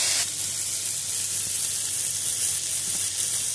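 Parasol mushrooms with a squeeze of lemon sizzle steadily in a frying pan, a loud, close, continuous hiss with light scrapes and shuffles as the pan is tossed and stirred.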